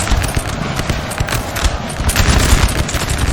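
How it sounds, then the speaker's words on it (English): Artillery shells a position amid massed musket fire in Napoleon Total War. Dense, overlapping booms and rattling volleys keep up a loud, continuous barrage throughout. "The artillery is starting to shell the LOC."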